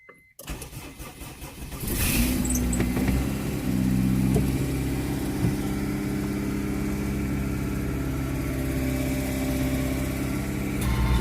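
A Honda CR-V with a check engine light cranks briefly and catches, then settles into a steady, fairly loud idle that runs on evenly without any talk over it.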